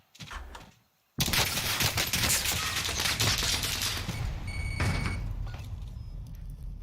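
Sustained automatic gunfire in Call of Duty: Warzone bursts in loudly after a brief lull, a dense rapid fusillade lasting several seconds with a faint ringing tone near the end.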